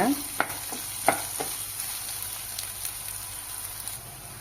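Green chillies and curry leaves frying in a pan for Chennai vadacurry get stirred with a few quick scrapes at the start, then settle into a soft, even sizzle heard up close.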